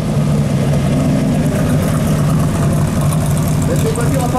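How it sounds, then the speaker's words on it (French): Aluminium-bodied, American-designed race car with a V8 engine idling at a steady, loud, close rumble that holds evenly throughout. "Voiture de conception américaine, donc le dessous vous avez un super V8."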